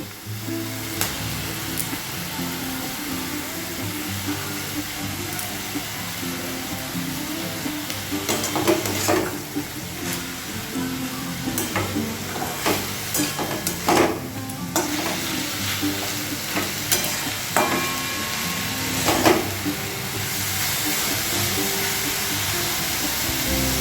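Shredded chicken fries in a pan while cooking chicken thukpa, a steady close sizzle with scattered crackles and stirring scrapes running throughout, no talking.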